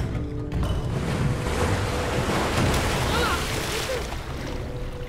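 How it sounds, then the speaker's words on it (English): Waterfalls released by pressure plates in the Minecraft Story Mode video game pour down as a loud, steady rushing roar of water that fills the whole stretch without a break. "Those pressure plates release waterfalls upstairs."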